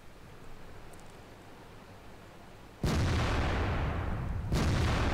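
KV2 tank gun fired in a World of Tanks-style game: a quiet rumbling background, then a sudden heavy boom with a long noisy decay, followed by a second blast a couple of seconds later.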